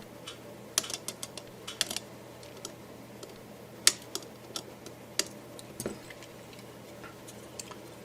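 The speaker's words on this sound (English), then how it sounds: "We'll cut the leads off." Sharp, scattered snips of side cutters trimming soldered capacitor leads on an FM radio kit board, about a dozen quiet clicks at irregular intervals over a low steady hum.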